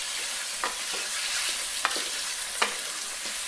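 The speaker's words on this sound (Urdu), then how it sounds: "یہ دیکھیں ہم نے چکن ڈال دیا ہے اپنا، اور اس کو ہم فرائی کر لیتے ہیں" Chicken frying in a karahi pan, a steady close hiss of hot oil with a few soft utensil taps scattered through it.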